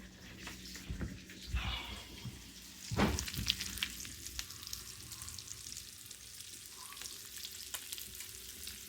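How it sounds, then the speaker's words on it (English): Previously frozen bacon sizzles in a pan with a steady crackling hiss, broken by a few louder clatters and bursts of spatter, moderately close and fairly quiet throughout. "And got this bacon going"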